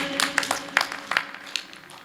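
An audience at a poetry and bhajan recital claps, a light scattered applause of separate hand claps that thins out and fades over a couple of seconds, fairly soft.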